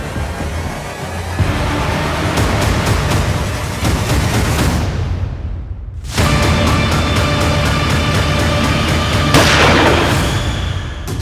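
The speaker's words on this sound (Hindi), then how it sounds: "ये गोली चलने की आवाज थी ना?" A loud, dense burst of sharp cracks and booming bangs of gunfire in a crime TV drama, continuing steadily with a brief dip in the middle.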